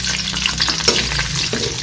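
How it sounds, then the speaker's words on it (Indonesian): Thinly sliced petai beans sizzle in hot cooking oil in a home kitchen, a dense, continuous crackling fry with small pops and occasional stirring scrapes, loud and close. "Yang pertama kita goreng petenya dulu"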